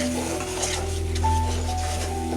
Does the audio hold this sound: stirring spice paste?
yes